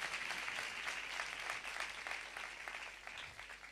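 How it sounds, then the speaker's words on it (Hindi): Congregation at a church service breaking into loud, dense applause, many hands clapping together close by, with the clapping tapering slightly toward the end. "जोरदार तालियां"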